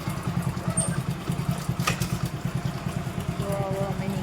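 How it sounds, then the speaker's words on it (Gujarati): A motorcycle idles nearby as it is wheeled out to leave a family gathering, its engine thumping in a quick, even pulse throughout with faint clatter above. "અને પપ્પા બસ બાઈક કાઢી રહ્યા છે."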